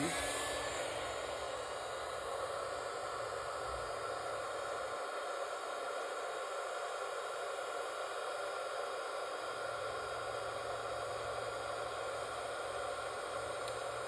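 A heat embossing tool blows steadily for a long stretch, a constant hairdryer-like whoosh with a high whine, held slightly away from the microphone and running alone without pause.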